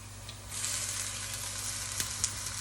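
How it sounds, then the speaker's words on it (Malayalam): Curry leaves, green chilli and chopped onion hitting hot oil for an Indian-style fish curry, a close crackling sizzle that swells and holds steady, with a couple of brief stirring clicks. "കറിവേപ്പില ഇട്ട് കഴിഞ്ഞിട്ട് പച്ചമുളക്, ചോപ്പ് ചെയ്ത് വെച്ചേക്കുന്ന ഉള്ളി ഇടാം"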